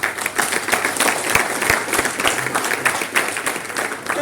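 Audience applause from a seated crowd at a motivational talk, a dense steady patter of many hands clapping for about four seconds, fairly close and unbroken, with no voices over it.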